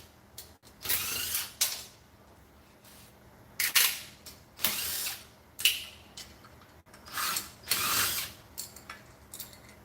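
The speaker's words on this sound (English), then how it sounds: "let's yank the valve cover." Valve cover being pulled off a Predator 212cc small engine during a build, with a series of close mechanical clicks, scrapes and metallic handling noises coming in short bursts between quiet gaps.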